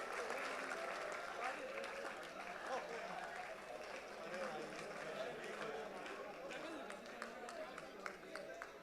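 Audience at an induction and orientation programme cheering and applauding for two birthdays, a dense sustained wash of clapping and crowd noise that stays loud and even throughout, with voices mixed in.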